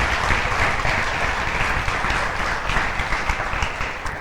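A church congregation breaks into sustained applause during a Spanish-language sermon, dense steady clapping from many hands filling the room for several seconds without pause.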